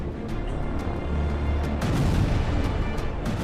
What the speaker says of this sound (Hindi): इस बार खान यूनिस में आईडीएफ ने लगातार कई बम बरसाए